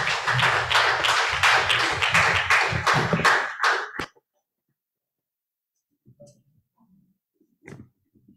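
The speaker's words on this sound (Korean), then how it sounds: "박수로 맞이해 주세요" Audience applause at the closing ceremony of a basic income conference, a dense burst of clapping for about four seconds that cuts off abruptly, followed by faint scattered sounds.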